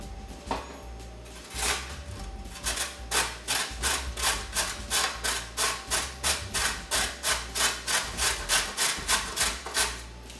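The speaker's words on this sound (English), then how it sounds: "I prefer grating them for a more even mix in the salad, and it's a lot less chunky" Carrots rubbed against a hand grater for a salad, a close rhythmic series of rasping strokes that speeds into a quick regular back-and-forth, with no talking.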